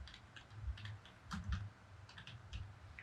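Soft keystrokes on a computer keyboard come in small bursts, faint and somewhat muffled, with brief gaps between clusters of taps and no talking.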